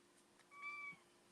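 A single short, soft meow from a cat in a home kitchen, faint against quiet room hush, with no one talking.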